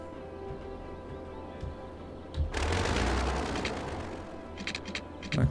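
Road demolition in the city-building game Cities Skylines, a sudden crunching burst of rubble and destruction that rumbles for a couple of seconds before settling, followed by a few faint clicks.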